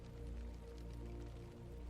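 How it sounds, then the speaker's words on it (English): Gentle rain falls steadily in a soft, continuous patter with a low rumbling wash underneath, quiet and even throughout. "The soft sounds you hear, the gentle rain"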